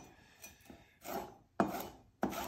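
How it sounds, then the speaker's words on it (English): A knife slicing onions and peppers on a cutting board, a few crisp strokes growing louder and sharper, with quiet rubbing between cuts. "and then just start slicing"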